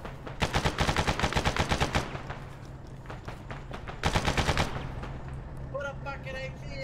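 Rapid automatic gunfire in a video game shootout, two loud bursts of closely spaced shots separated by a brief lull, followed by a short cry of pain.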